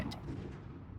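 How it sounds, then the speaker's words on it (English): A single loud gunshot rings out in the Umineko visual novel, a sharp blast with a booming tail that decays over the second. "That was a gunshot."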